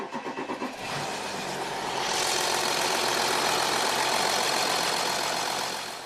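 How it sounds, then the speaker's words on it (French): A car engine cranks with rhythmic starter pulses, catches and settles into a loud, steady run with a faint metallic timing-chain rattle in the mix; the car has about 132,000 on the odometer. "Je peux entendre le cliquetis typique de la chaîne, mais de manière générale, le moteur fait beaucoup de bruit."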